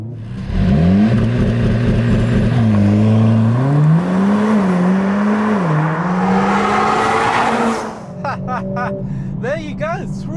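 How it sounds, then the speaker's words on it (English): Mercedes-AMG CLA 45 S Shooting Brake in Sport Plus doing a launch start: a loud, close engine roaring as it climbs steadily through the revs with brief shift dips, then easing off as a voice speaks over it near the end. "Let's do a launch start."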